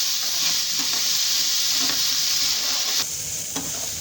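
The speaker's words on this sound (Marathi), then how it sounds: "आता कमी गॅसवर आहे ना याला 5-10 मिनटं चांगलं होऊ द्यायचं आहे मसाला" Masala with tomatoes and a little salt roasting in a pan over low gas, giving a steady, close sizzling hiss with faint stirring scrapes throughout.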